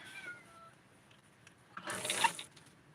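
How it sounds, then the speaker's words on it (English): A house cat meows softly indoors, a short thin call early on, then a louder, rougher burst of meowing later, with quiet room noise in between and no talking. "The cat's telling me she wants to jump, so she will jump."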